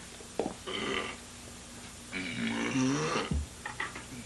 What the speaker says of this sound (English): It's an interesting belch combination.